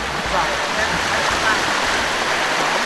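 A waterfall and stream flow below a jungle house built over the falls, making a steady, dense broadband rush that stays loud and unbroken throughout, with a low rumble underneath.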